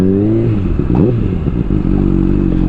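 A motorcycle crossing a river on a rough road in Nepal: a loud, close engine drones and revs, its pitch rising and falling, while water and gravel clatter and scrape under the wheels.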